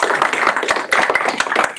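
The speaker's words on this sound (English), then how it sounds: "Round of applause," Audience applause closing a panel session at a Sydney CocoaHeads meetup, a dense, steady burst of many hands clapping at close range with no talk over it.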